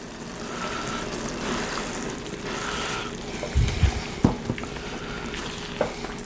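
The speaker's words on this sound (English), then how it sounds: "Now I'm going to add it a little bit of cream." Cream poured into a simmering venison gravy in a pan, a steady wet sizzle and bubbling throughout with a few soft knocks and clinks of a utensil toward the end, no voices.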